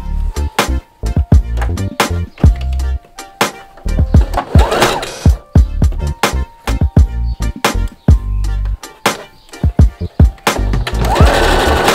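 A domestic sewing machine stitches sleeve cuffs on a dress in loud bursts of rapid mechanical chatter, separated by pauses with handling clunks and taps, close up and without talking.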